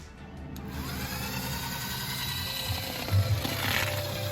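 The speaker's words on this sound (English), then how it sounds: "I'm gonna use my little USB mixer here to cream the butter and sugar." A small USB-powered hand mixer creaming butter and sugar for cookies: a steady, thin motor whir with a rattling, ratchety texture, continuous and close, swelling briefly near the end.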